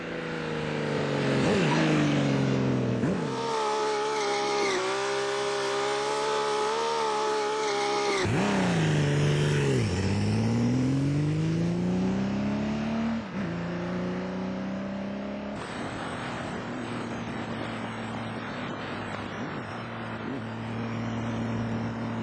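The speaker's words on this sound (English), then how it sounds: "Here is a motorcycle powered by a V12 engine" A big V12 motorcycle engine in a Millyard Kawasaki Z2300 revs loudly, its pitch rising and falling through several throttle blips before settling into a steady drone.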